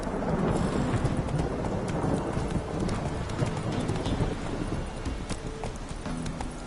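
Roach the horse galloping in The Witcher 3, a dense, steady drumming of hooves under a constant rushing wind, loud and close and keeping up throughout.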